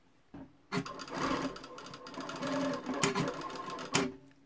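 Sewing machine stitching a blouse, running in rapid bursts with mechanical clatter, starting and stopping a few times, close and fairly loud.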